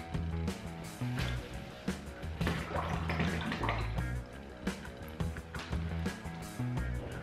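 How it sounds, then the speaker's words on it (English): A roll of stone-tile-look wallpaper is dipped and swished in a tub holding about four inches of water, giving close sloshing, dripping and splashing, loud and continuous with small irregular bursts. "Now I'll dip this roll into the water for 30 seconds."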